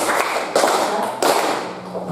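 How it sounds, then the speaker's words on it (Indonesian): A group of people clap together in a room, a steady broadband patter with a few swells in intensity over about two seconds, fairly loud and close, with no talking. "Oke, tepuk."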